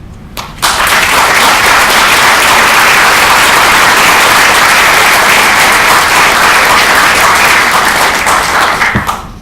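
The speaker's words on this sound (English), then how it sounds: "Let's give a hand of applause to the faculty, the amazing faculty that led us there." Sustained, loud applause from a large graduation ceremony crowd at UMass Boston in 2013, honoring the faculty, swelling in quickly and holding steady as a dense wash of clapping for about nine seconds.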